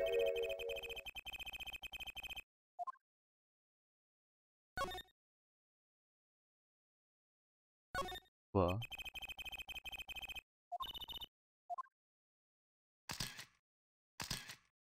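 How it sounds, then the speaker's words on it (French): A mobile phone ringing in the Apollo Justice: Ace Attorney video game, heard as repeated bursts of electronic ringtone separated by silent gaps, with one short spoken word in between. "Téléphone portable."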